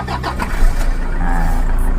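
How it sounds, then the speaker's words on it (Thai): A Toyota Hilux Vigo 2.5 diesel pickup engine, a 2006 model, cranks and catches, then settles into a steady, rumbling idle close by. "เดี๋ยวลองฟังเสียงเครื่องยนต์ครับ"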